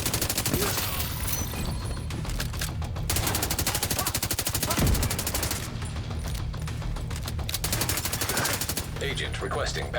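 Light machine gun fire in The Division 2 shooter game, long rapid bursts of automatic shots with short breaks, loud and dense, with a voice speaking briefly over the gunfire.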